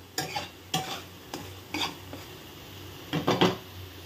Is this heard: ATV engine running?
no